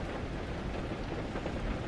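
Rain falls during a storm, a dense steady hiss of drops with low rumbling beneath, soft and continuous.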